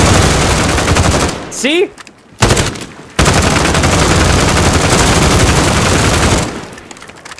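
Dense automatic gunfire from the Modern Warfare video game rattles on loudly for most of the stretch, broken by a short gap, while a player speaks briefly over the shooting.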